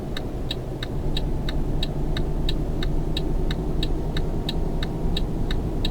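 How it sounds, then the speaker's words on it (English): Racing game car engine drones steadily as another car comes up on the outside, with a regular ticking pulse over a constant mid-pitched engine hum and no talking. "There is a car coming in the outside and I'm not going to get out in time."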